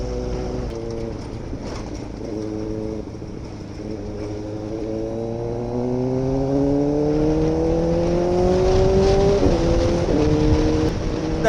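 A Kawasaki inline-four motorcycle revs and accelerates nearby, its engine tone climbing steadily through the gears with a rising, sustained whine, loud and alone without talk.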